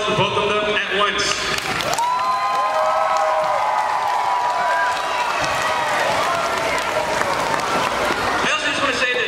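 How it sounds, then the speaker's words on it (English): Applause and cheering from an audience at a school Chinese New Year performance, a steady roar of clapping and crowd noise filling most of the clip. "Quick round of applause for both of them at once."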